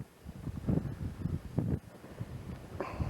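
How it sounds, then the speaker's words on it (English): Gusty wind buffets the microphone in low rumbling bursts, rising and falling unevenly, with no talking, on a hilltop plateau by a hill fort overlooking a peninsula. "It's fairly windy"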